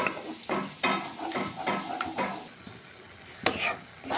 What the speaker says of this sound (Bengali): এবার গ্রেভিটাকে আমি ফুটতে দিব।